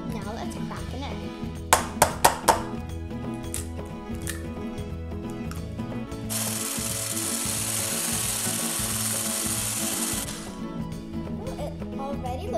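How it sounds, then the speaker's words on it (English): An electric mixer beats red velvet cupcake batter with a steady, loud whir for about four seconds mid-clip. A few sharp taps come before it, and a constant background bed runs throughout. "For a smooth, nice batter, an electric mixer is a better choice."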